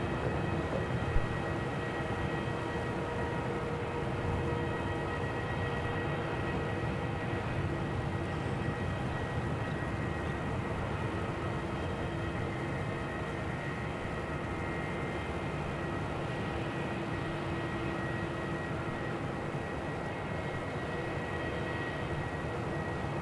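A Qantas Airbus A330 landing on runway 27 at Melbourne Airport, a steady, continuous engine roar and rumble that holds level throughout without fading, heard alone with no voices.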